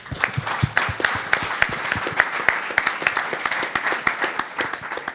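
Audience at a Berlin blockchain meetup claps in a round of applause, with crisp, distinct hand claps close by over a lighter background of clapping, holding an even pace throughout with no talk over it.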